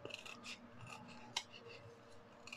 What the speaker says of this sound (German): Ihr schneidet es hier gerade ein, klappt die kleinen Laschen um und schneidet das hier komplett raus.